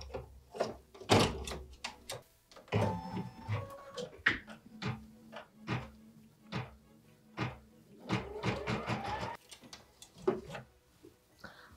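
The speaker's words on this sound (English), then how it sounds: "which is stitching the placement line for the shape form" An embroidery machine stitching a placement line on fabric for a quilted Christmas mini: bursts of rapid mechanical needle chatter and whirring alternate with short pauses and clunks, moderately close and fairly quiet.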